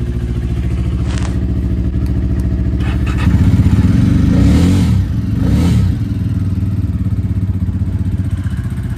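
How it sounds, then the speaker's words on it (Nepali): A Jawa motorcycle engine runs close by with a loud, steady thumping idle, rising briefly into a fuller rev midway before settling back, with light clatter and no voices. "अनि अब चाहिँ यो जाबालाई पनि म स्टार्ट गर्छु नि त।"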